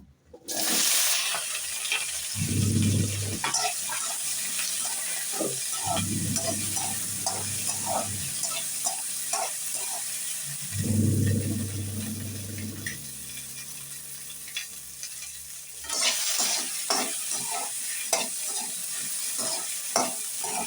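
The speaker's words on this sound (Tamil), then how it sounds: "வெண்டிக்காயை நல்லா அடுத்த சிம்மில் வச்சு நல்லா வதக்கிக்கிறணும்" Okra sizzling in a hot pan, with repeated bursts of stirring and scraping over a steady frying hiss.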